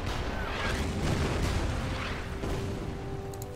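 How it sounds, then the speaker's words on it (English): Artillery shells pound a bunker in the strategy game Order of Battle, heavy rumbling booms rolling into one another in a dense, loud barrage with no talk. "Hit the bunker with the artillery"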